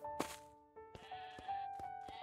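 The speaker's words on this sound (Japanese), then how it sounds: "こっちヤギ鳴き声するね。" Goats bleat in the game Craftopia, several wavering calls at moderate distance with soft thuds in between and no talk.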